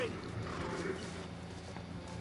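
A horse's hooves clip-clop in the Red Dead Redemption video game, a steady, close stepping rhythm running the whole time alongside game ambience and some voice.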